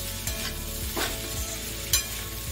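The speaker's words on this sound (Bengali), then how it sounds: "এবার এতে চিড়েটা ঢেলে দিচ্ছি। চিড়েটা মিশিয়ে নেবো।" Flattened rice (poha) being stirred through in a frying pan, with steady scraping and soft sizzling plus a few sharper spatula strokes, close and alone.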